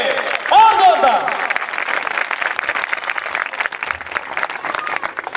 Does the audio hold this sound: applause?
yes